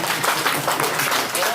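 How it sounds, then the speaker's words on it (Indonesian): A crowd at a community gathering in Aimasi village applauds in a steady, dense patter of clapping, with voices mixed in underneath. "Tepuk tangan dong."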